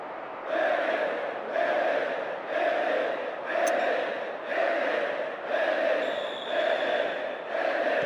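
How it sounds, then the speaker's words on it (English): Virtual stadium crowd in the football game PES 2010 during a UEFA Champions League match, a loud sustained roar of jeering that swells and dips in steady waves, with no talk over it. "The crowd giving both manager and players some serious stick."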